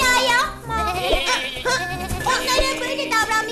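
Goats on a mountain pasture bleat repeatedly in wavering, quavering cries, several calls overlapping one another close by while a voice also sounds.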